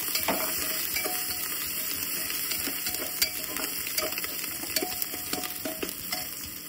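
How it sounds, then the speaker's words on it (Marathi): Onion sautéing in a pan for pav bhaji, a soft continuous sizzle with frequent scraping and clinks of a spatula stirring against metal, steady and close throughout. "आता हे जे आहे कांदा मी लालसर असा परतून घेतलेला आहे लवकर छानपैकी"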